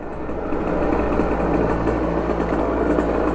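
A Derbi motorcycle engine runs steadily at a constant buzzing pitch, close and loud, with no talking.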